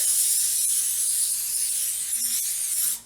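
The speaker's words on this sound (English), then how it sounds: "I'm just going to spray with my butter" A steady, close hiss of a butter spray nozzle onto warm bread rolls runs for a few seconds, then cuts off abruptly.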